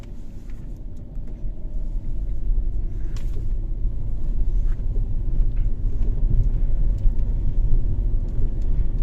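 Inside a Fiat Doblo with a 1.3 Multijet 90 hp Euro 5 diesel engine, a steady low engine and road rumble drones on while driving, growing slightly louder, with occasional small clicks and knocks from the cabin.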